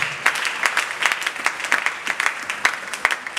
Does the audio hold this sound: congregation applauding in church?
yes